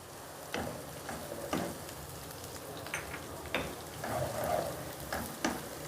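Finely chopped ginger and green chilli fry in masala and oil for keema, making a steady crackling sizzle. Intermittent spoon scrapes and stirring knocks break through it, with no talking.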